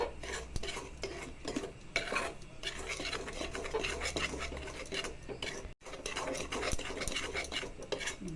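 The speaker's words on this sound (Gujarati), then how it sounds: "આ રીતે હલાવતા રહેવું, જેથી કરી લોટ બળે નહીં." Rice flour being stirred and roasted in a pan for coconut barfi, a soft continuous scraping and rasping of a spoon against the pan, quiet and close, with no talking.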